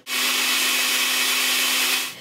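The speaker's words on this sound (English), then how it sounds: "So let's blend it." A blender whirs steadily while mixing all-purpose flour, water and salt into a breakfast batter, one loud continuous motor run of about two seconds with a stable hum, no voices.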